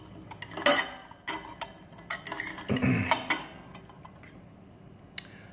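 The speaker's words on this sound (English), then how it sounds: "I need to give these a stir." A spoon stirs ice in Yeti and copper mugs, giving several bursts of clinking and metallic rattling, close and fairly loud, separated by short quiet gaps.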